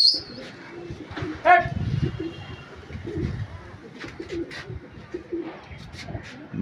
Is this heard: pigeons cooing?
yes